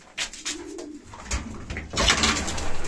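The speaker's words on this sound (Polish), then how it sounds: "Na tym gołębniku są gołębie" Racing pigeons coo softly and repeatedly, with rustling and fluttering in an enclosed loft, the calls close by.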